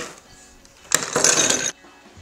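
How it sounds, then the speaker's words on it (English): Ice cubes tumbling into a cocktail mixing glass for a Manhattan, one short clattering burst of under a second, close and fairly loud against a quiet room. "Grab your mixing glass and fill it with ice."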